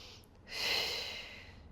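One slow, breathy exhale rises and fades during a Pilates exercise on a mat, close and soft against a quiet room.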